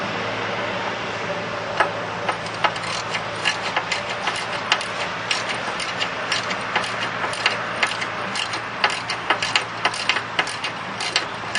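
A socket ratchet tightening bolts on a Jonsered 2754GTHi mulch kit for a Husqvarna 54-inch deck, a rapid, steady run of close clicking ticks continuing throughout without talk.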